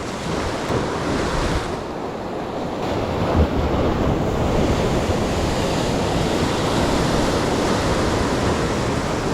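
Steady roar of surf during a heavy sea storm, waves breaking continuously, loud and broadband, mixed with gusty wind noise on the microphone.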